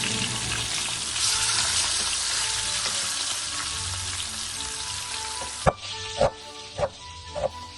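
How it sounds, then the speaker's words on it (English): Beef shanks brown in hot oil in a heavy pot, giving a steady, close sizzle that drops off near the end into a few sharp knocks and clatters. "Heat oil in a heavy pot and brown the shanks on all sides until deeply golden."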